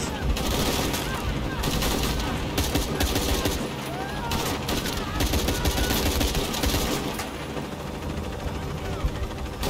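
Enemy gunfire in Shadow of the Tomb Raider crackles in dense, continuous volleys of rapid shots with bursts of automatic fire, loud and steady throughout, with game noise underneath.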